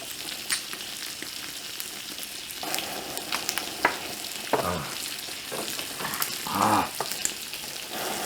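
Abalone sizzles and spits steadily in hot butter on a grill, a dense, continuous frying hiss with a few sharper pops and crackles.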